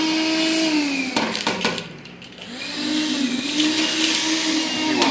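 A Makita cordless vacuum runs with a loud, steady whine whose pitch dips briefly as the airflow is blocked, then rises back to a constant drone, heard up close.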